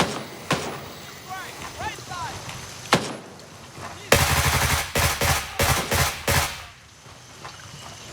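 Gunfire in the video game Gray Zone Warfare: a few single shots, then a rapid burst of repeated loud cracks, with a player talking in between.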